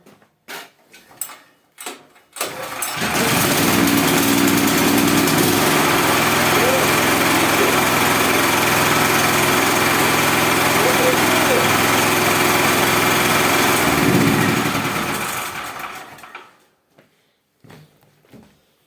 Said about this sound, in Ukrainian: Пробуємо заводити. Паливо відкрите, підсос, запалювання і...